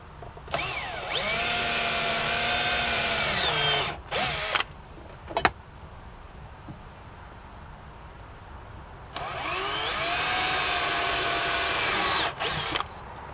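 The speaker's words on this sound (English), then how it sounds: "And then we just drill them through." A power drill whirs loudly twice, each run lasting a few seconds with the motor pitch shifting, separated by a short pause with light clatter.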